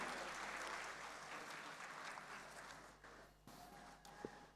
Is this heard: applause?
yes